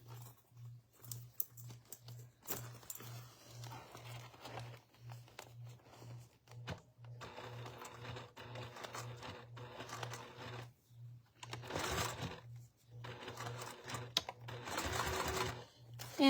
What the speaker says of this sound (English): you're sewing your webbing down and then doing the X across it to hold it in place well